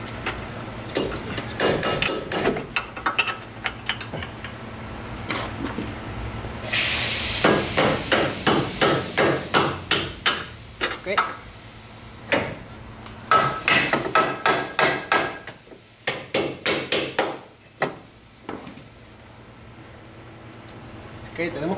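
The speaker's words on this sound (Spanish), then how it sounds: "y le damos con el martillo." Sharp metal hammer blows drive a bolt into a Ford Focus control arm during a ball joint and control arm job, arriving in irregular bursts of rapid strikes with pauses between, close and loud, while someone talks in Spanish at times.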